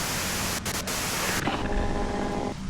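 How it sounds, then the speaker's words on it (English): Radio-style white noise static hisses in the detective game Disco Elysium, a loud broadband wash that drops abruptly to a quieter, thinner hiss partway through, with no voices. "you can do it through the white noise"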